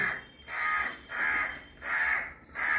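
A crow caws repeatedly and loudly nearby, five harsh calls in a steady rhythm, calling to its young crow.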